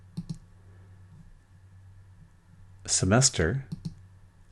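Computer mouse clicks while selecting a folder on a student file server: a quick pair of soft, sharp clicks, then a faint click just after a brief spoken word.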